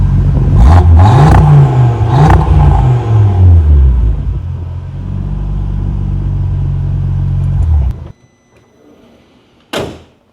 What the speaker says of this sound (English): let me give it a couple revs here